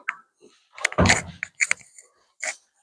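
A door in an abandoned retirement home moves with a scraping, rattling clunk at close range, surrounded by a few short knocks and creaks in an otherwise quiet room.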